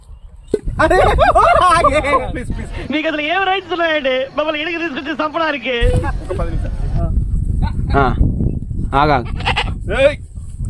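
A goat in milk bleats repeatedly up close in long, wavering cries, loud and insistent, with short pauses between calls, in a village setting.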